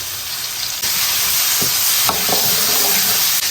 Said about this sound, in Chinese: 锅中加油，先炒个鸡蛋饭粒，葱姜蒜爆香，下入饭粒。